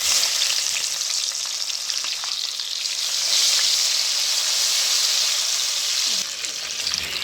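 Mashed tomatoes frying in a pan for a pumpkin dish, giving a loud, steady, hissing sizzle throughout with light stirring underneath, close up and with no speech.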